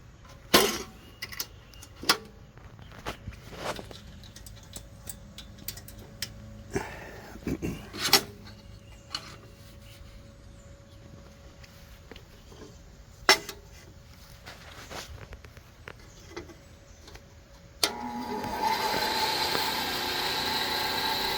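A Delta 28-180 vertical bench band saw is switched on after scattered clicks and handling noises, its motor rising to a steady, moderate whir near the end, close by, with no talk.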